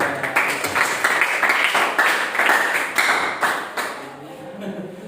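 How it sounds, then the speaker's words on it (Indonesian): A classroom group claps in a steady burst of applause that runs for several seconds and then thins out toward the end. "Kita berikan aplaus dulu"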